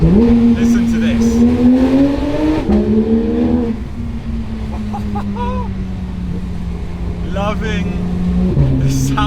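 A Porsche 911 GT3 RS engine drones loud and close through a narrow mountain pass, its pitch holding then dropping between gears with brief revs, and a voice talks over it.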